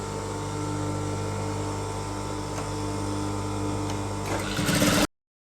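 Sewing machine stitching an elastic trouser for a small child, a steady close mechanical whir running for about five seconds, then speeding up briefly before stopping abruptly.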